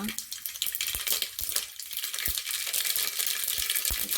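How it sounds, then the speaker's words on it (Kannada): Mustard seeds splutter in hot oil inside a pressure cooker, making sharp irregular pops and crackles over a dense hiss, close and fairly loud, with no speech. "ಇವಾಗ ನಾನು ಒಂದು ಸ್ವಲ್ಪ ಸಾಸಿವೆಯನ್ನು ಹಾಕ್ಕೊಳ್ತಿದ್ದೀನಿ ಸಾಸಿವೆ ಚಟಪಟ ಅಂದ ತಕ್ಷಣ"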